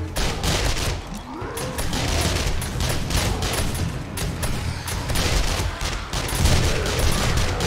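Dense, continuous gunfire aimed at a boss in the game 7 Days to Die, rapid repeated shots blending into a loud, unbroken fusillade with booming low thuds throughout.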